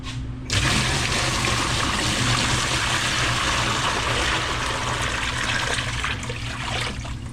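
Fresh water pours steadily into an enclosure from a container, a continuous splashing gush that starts abruptly after a quiet moment and runs without voices.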